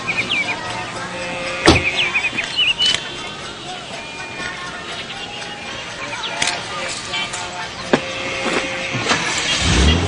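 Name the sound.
car driving off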